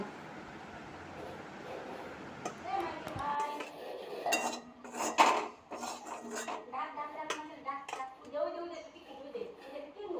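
Clinking of a metal utensil against a pan and metal plate as fried greens are scooped out, a string of light scrapes and taps close by, with someone talking over it at times.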